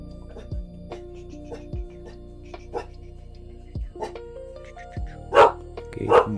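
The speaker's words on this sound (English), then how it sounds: "mic off, dogs barking." Dogs bark in short, sharp bursts spread across the moment, a few separate yips and barks at moderate distance, louder toward the end, with faint talk in the background.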